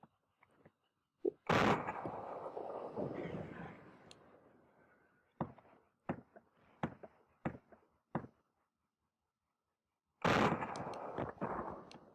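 Video game combat with enemy tanks: a big explosion booms and rumbles away, then a quick string of sharp gunshots follows, and after a silence another loud blast breaks out with more rapid shots.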